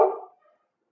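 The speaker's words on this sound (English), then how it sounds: "that's my dog barking." A single short dog bark rings out close by and fades quickly into silence.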